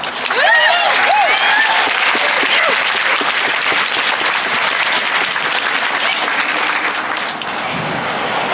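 Audience applause welcoming a speaker to the stage at a national rally against violence, a loud sustained crowd clapping with a few whoops early on, fading slightly near the end.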